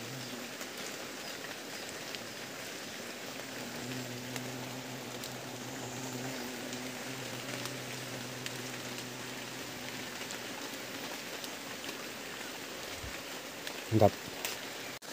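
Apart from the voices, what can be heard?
rain falling during palm sap tapping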